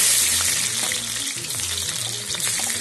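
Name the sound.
onion frying in hot mustard oil in a kadai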